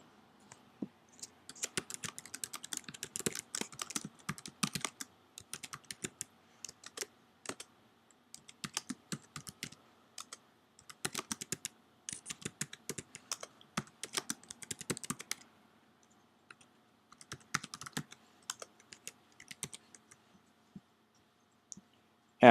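Light computer keyboard typing in quick irregular bursts with a few mouse clicks while text is edited, close and quiet, with short pauses between runs of keystrokes.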